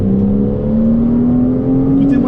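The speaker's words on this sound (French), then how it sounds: "Mais c'est un bijou ce Flat 6 Porsche." Inside a Porsche Cayman S with its stock exhaust, the flat-six engine revs, a loud, rising drone that climbs steadily in pitch over a couple of seconds, heard close from the cabin.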